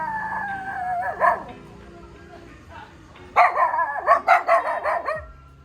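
Stray dogs bark on a dark, quiet street in Bali, a few barks early on followed by a louder burst of repeated yelps and barks in quick succession, fairly close with little else around.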